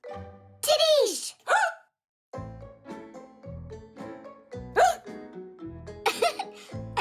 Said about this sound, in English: I guess the hiccups are contagious.